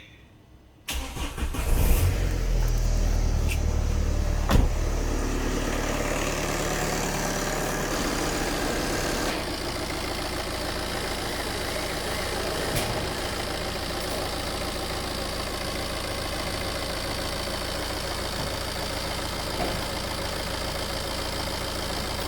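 A car engine runs without its radiator and cooling fan, catching after a brief start and then settling into a steady, even idle, close and continuous, with no talking.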